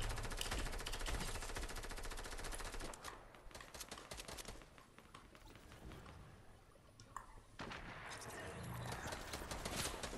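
Rapid automatic video game gunfire with dense clattering runs, a quieter stretch in the middle, then another burst, with no talk.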